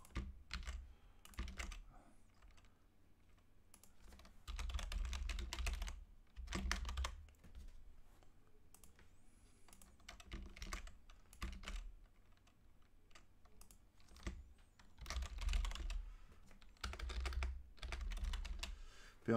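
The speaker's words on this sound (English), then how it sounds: "I'm a loud typer, just so you guys know." A loud typist hammers a computer keyboard nearby in uneven bursts of rapid clacking keystrokes, with short pauses between flurries and no talk over it.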